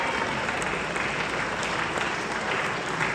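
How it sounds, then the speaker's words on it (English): An audience at a basketball reunion applauds a coach, a dense and steady wash of many hands clapping from start to finish, moderately loud with no clear voices. "I know it's hard not to give him a round of applause."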